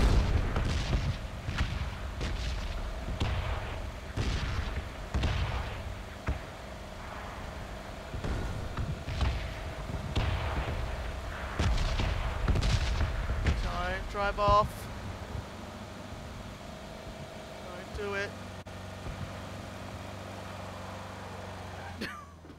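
Booming artillery blasts from a PUBG bomb zone strike repeatedly in an irregular barrage, heavy and low, while a vehicle engine drones underneath; the explosions thin out toward the end.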